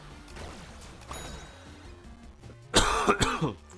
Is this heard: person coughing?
yes